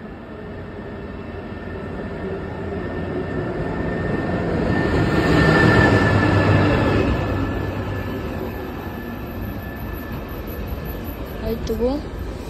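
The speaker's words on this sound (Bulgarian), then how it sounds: "днес сме на ЖП гара Костенец и бърз влак от Варна за София" A fast passenger train from Varna to Sofia passes through Kostenets railway station, a steady rumble swelling as it nears and easing off afterward, with talk over it.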